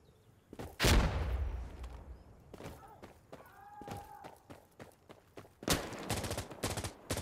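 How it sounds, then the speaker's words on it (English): Gunfire in Insurgency Sandstorm, a loud close burst followed by scattered shots and then a rapid automatic volley, with faint footsteps and a brief tonal sound between the shots. "I just got shot at."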